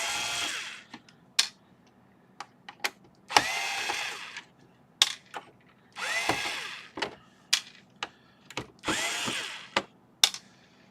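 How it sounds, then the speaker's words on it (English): Screws being removed from a device with a power driver, repeated short whirring bursts separated by quiet gaps and sharp clicks, close and fairly faint. "I'm getting these screws out"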